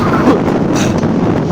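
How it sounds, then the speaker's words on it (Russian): Strong winter wind at the Anapa seaside buffets the microphone with a loud, continuous broadband roar and rumbling gusts, with no other sounds standing out. "Сильнейший ветер дует мне в лицо и просто мотает камеру."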